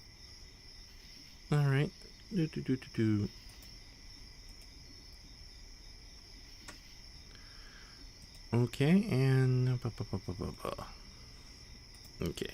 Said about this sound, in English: we have the scary crickets in the background